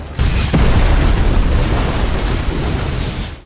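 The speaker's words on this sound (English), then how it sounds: "before the bomb detonates, killing the soldiers inside" A bomb detonates inside a building full of soldiers in an action film, a loud deep boom that bursts out after a brief lead-in and rumbles on heavily for several seconds without fading.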